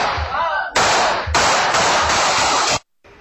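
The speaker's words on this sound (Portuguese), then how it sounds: "um homem de roupa preta chega atirando" Gunfire from an attacker inside a tire repair shop: several sharp loud bursts of crackling noise separated by short gaps, ending abruptly in silence before a faint tail.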